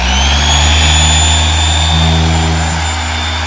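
A car polisher spins its pad at higher speed while refining paint on a car being prepped for ceramic coating. It gives a steady, loud, close motor whine with a constant hum throughout, with no voices.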